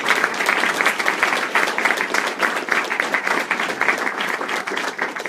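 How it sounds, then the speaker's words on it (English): Sustained applause from an audience at a 2017 student government inauguration ceremony, a steady dense wash of many hands clapping for several seconds with no talking. "let's have one more round of applause for all of those amazing executives"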